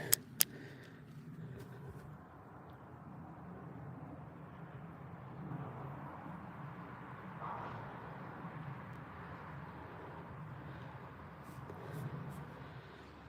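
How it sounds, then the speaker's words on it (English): A car on a quiet rural road at night, a low steady rumble of tyres and engine that swells gradually as it approaches, heard from a distance and fairly faint, with a couple of brief clicks at the start. "There's a car coming."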